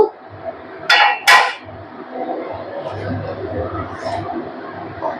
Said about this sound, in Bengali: আমি এবার ঢাকাটা সরিয়ে নেব